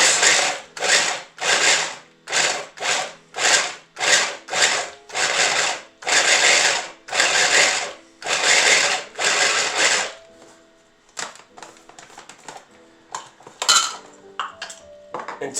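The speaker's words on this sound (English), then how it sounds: "We're looking to just grind them up and make them into bite size. So we're going to pulse it." Food processor pulsing walnuts for baklava: about ten short, loud grinding bursts in a regular rhythm with brief gaps, then quieter rattling and scattered clunks as the bowl is shaken and handled.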